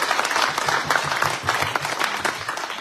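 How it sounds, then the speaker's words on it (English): An audience at a local railroad history program applauds a speaker in a steady, moderately loud patter of clapping that holds without pause for the length of the sound. "I think she deserves another round of applause."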